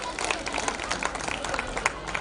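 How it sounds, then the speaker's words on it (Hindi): Audience clapping at a political rally for the Jhuggi Samman Yatra, a dense burst of many hands applauding steadily for a couple of seconds, with crowd murmur mixed in. "तो एक बार इनके लिए भी ताली आप लोग बजाते हैं"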